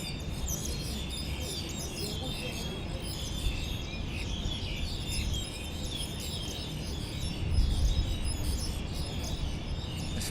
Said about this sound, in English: There's some even noisier birds moving in, doing some sort of love dance.